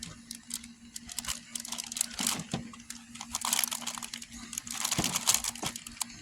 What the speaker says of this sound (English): I'm gonna just put them whole in the freezer bag.